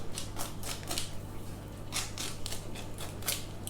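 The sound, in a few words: cutting spare pastry off a corned beef pie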